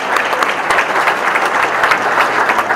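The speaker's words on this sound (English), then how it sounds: "a round of applause for those recipients" An audience at a high school senior awards night applauds award recipients with steady, dense clapping throughout, loud and continuous with no speech.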